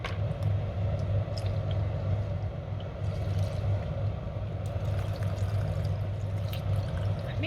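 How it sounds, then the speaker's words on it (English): Milk and water pour into a container of steamed oats for an overnight breakfast, making a steady, close, continuous liquid stream under a low background hum. "I'll add 1 cup of milk and half a cup of milk and half a cup of water"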